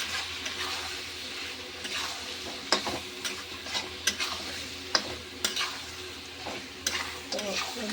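Chicken being stirred with turmeric powder in a pan, a steady sizzle broken by repeated scraping strokes of the spoon, close and moderately loud with no talking.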